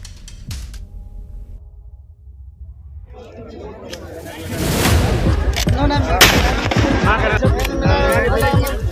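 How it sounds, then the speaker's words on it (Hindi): Sporadic shots give way to dense, rapid gunfire by a pond, loud and cracking, with a voice talking over the barrage. "इन बंदूकों से हुई ऐसी जोरदार फायरिंग मानो जंग छिड़ गई हो।"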